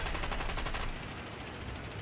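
A tail gunner's machine gun rattles in the video game Birds of Steel, a continuous fast stream of shots under a steady roar of engine noise.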